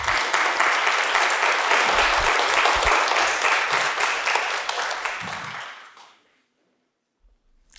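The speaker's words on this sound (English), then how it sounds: "Can we give them a hand of applause?" A church congregation applauds at a Confirmation Sunday service, a loud, sustained wash of clapping that runs about six seconds, then fades quickly into near silence.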